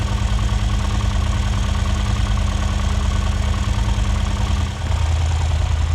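A Yamaha TDM 850 motorcycle engine idles steadily and loudly up close, with a low, even, slightly knocking throb and one brief dip near the end, no voices.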